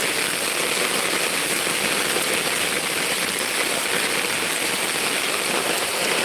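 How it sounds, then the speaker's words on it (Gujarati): Heavy rain pours down on cotton fields in a steady, unbroken hiss, with no letup. "કેટલો વરસાદ વરસી ચાલુ છે"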